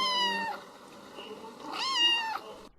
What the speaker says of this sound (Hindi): तभी उन्हें बिल्ली के आने की आहट सुनाई दी